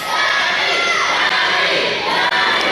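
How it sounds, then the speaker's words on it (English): At an independent wrestling show held at a Boys and Girls Club, a close, loud crowd roars continuously, with children's high-pitched shouts and cheers filling the whole stretch. "Of course they're going to cheer for a Donnie Dollars or a Brad Attitude."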